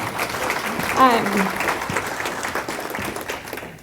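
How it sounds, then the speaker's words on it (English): Applause from an audience at a live real estate seminar in Sacramento, a broad steady wash of clapping that swells briefly near the start, with a voice cutting through partway in. "you can give me a round of applause if I say that"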